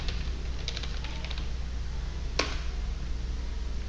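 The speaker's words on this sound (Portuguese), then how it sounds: "Vou digitar meu nome." A computer keyboard clicks as a name is typed, quick irregular keystrokes fairly faint over a steady background hum, with one sharper tap near the end.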